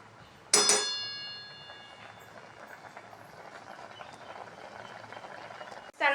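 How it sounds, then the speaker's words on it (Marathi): Pani puri water simmering in a pot, a steady soft bubbling hiss that follows a sharp metallic clink, fairly faint and close with no talking. "4-5 मिनटं तरी याला आपण शिजवून घेऊ."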